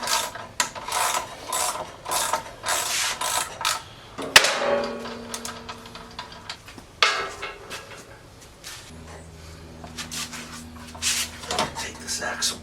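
Ratchet clicking while an axle bolt is loosened on a 2022 Honda Grom motorcycle, close and fairly loud bursts of rapid pawl ticks with a few metallic clanks, with a voice speaking now and then between.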